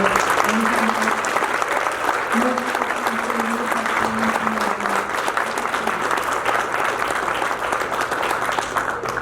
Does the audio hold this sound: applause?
yes